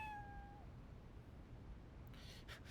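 In the video game Trauma Team, a cat meows once, faint and brief, over a quiet steady background hum.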